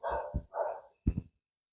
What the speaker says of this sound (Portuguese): E o cachorro resolveu latir aqui para justamente na hora que eu estou gravando